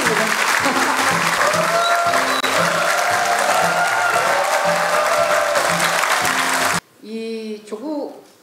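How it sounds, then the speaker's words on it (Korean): A crowd at a Korean book talk claps steadily and warmly as guests, including a Democratic Party lawmaker, are welcomed onto the stage, with loud continuous applause and a few whoops, then a brief murmur of voices after it stops. "박수 한번 보내주시겠어요?"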